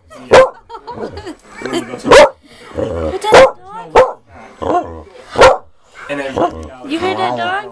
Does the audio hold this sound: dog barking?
yes